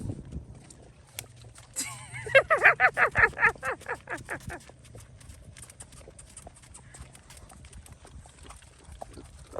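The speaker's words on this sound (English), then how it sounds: "horse started galloping and she started taking off" Horse hooves clip-clop in a quick rhythmic gallop for a couple of seconds on a horseback ride in Ocho Rios, Jamaica, then fade back into a quiet outdoor background.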